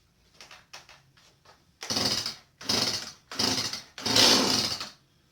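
A Stihl 017 chainsaw with the choke on gets four rough pull-start attempts in a shop, each a loud sputtering burst about a second long, spaced by short gaps, after some faint rattling.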